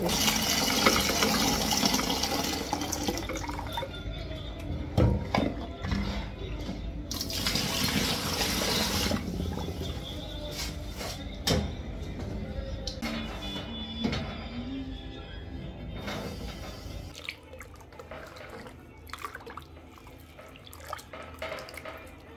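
Tap water runs steadily into a sink while pots are washed in a Nairobi home kitchen, with bursts of filling, splashing and dripping and clattering of cookware, fairly close.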